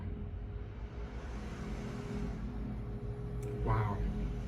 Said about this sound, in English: Can you guys hear that truck?